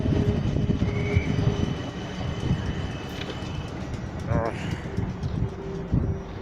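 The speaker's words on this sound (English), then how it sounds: "This train's gonna arrive in, and the other one's gonna leave." Trains rumble through Clapham Junction as one pulls in and another departs, with steady rolling wheel noise, a few squeals and clanks, and someone talking over the station sound.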